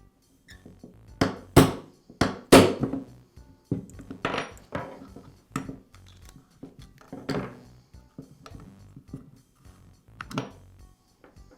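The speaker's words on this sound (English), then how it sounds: "I'll use a hammer and punch to remove." A hammer strikes a punch to drive a pin out of a Makita reciprocating saw during a bearing repair, giving a series of sharp, close metallic taps at an irregular pace, some louder than others, with no talk.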